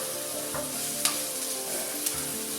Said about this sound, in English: This is the loudest sound. That's all the stuff that I saute.